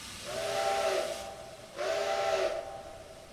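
Two long steam locomotive whistle blasts from Trainz 2022, each about a second, sounding a steady multi-chime tone with airy hiss, close and fairly loud, separated by a short gap.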